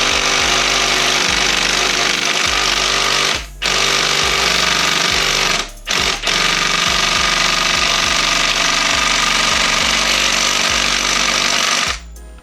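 A pneumatic impact wrench hammers at a sprocket bolt on a KLR650 motorcycle in loud, close bursts of rapid rattling, broken by a few brief pauses, with no talking.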